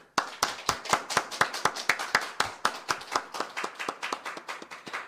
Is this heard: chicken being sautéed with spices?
no